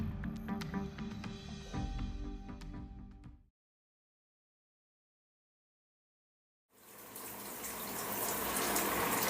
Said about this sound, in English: I'm switching the shower water from full hot to full cold.